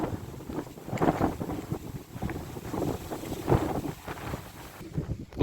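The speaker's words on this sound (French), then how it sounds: "Mais alors quel vent qu'il y a." Strong wind gusting across an open rural path near a forest, with roaring broadband buffeting that swells and fades in irregular bursts and loudly batters the microphone.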